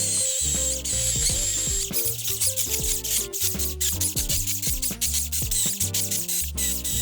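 A Milwaukee M18 cordless brushless electric chainsaw runs on a nearly drained battery and starts to bog down, a loud close mechanical whine with shifting pitch and rattling texture that holds steady throughout.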